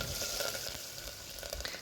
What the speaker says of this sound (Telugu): వేడెక్కిన తర్వాత పోపు దినుసులు వేసుకోవాలి.